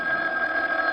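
A telephone ringing as a radio drama sound effect in a mystery play, a short steady electronic ring tone heard alone and fairly loud.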